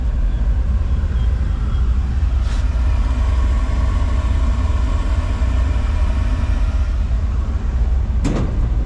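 A new $30,000 incinerator, fired up for the first time in months, rumbles with a steady, loud low roar that stays constant throughout, with two brief sharp knocks over it.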